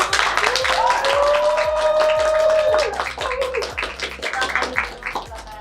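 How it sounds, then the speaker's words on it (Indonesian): An audience claps to welcome guests onto a campus talk show stage. Steady, moderately loud clapping runs throughout, with a voice and some music-like tones heard alongside. "Tepuk tangan."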